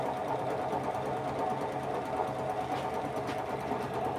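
A wood lathe spins a hollow form while a bowl gouge cuts, giving a steady, loud, continuous droning whir that holds evenly throughout with no talking.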